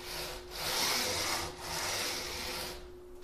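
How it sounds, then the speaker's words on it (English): Inexpensive Chinese linear slide bearings with unadjusted lash rattle and rasp as the carriage slides back and forth, making two close, rough strokes that swell and fade. "some of the rattle you hear, yes, they're inexpensive bearings, but I haven't adjusted the lash in them"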